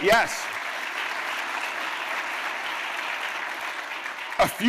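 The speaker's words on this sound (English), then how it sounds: "Let's have a round of applause for all of them" Dense, steady applause fills the room from a large audience at a mayor's State of the City address, honoring city snow team members, with short bursts of voice at the start and end.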